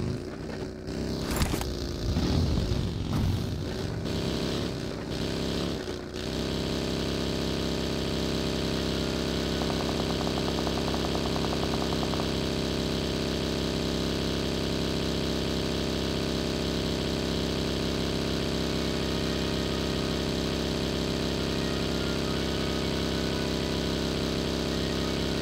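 A vehicle engine idling in PUBG Mobile, a steady, droning mid-pitched hum that holds evenly for a long stretch after a few brief clattering bumps at the start.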